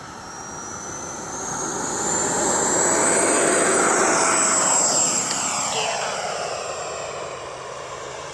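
A small RC jet engine with afterburner, on an F-86 model, roars steadily, swelling louder as it passes close by, then fading slightly, with a high whine over a broad rushing thrust.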